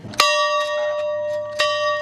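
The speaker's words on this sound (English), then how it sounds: "the old Rocky Branch school bell could be heard over the hills and through the hollows" An old schoolhouse bell from the Rocky Branch school rings out in two loud, clear strikes about a second and a half apart, each leaving a long ringing hum that lingers between them.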